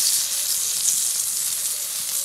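Fish fries in a hot pan over a campfire on the Ladoga skerries, giving a steady, close, hissing sizzle with no voices.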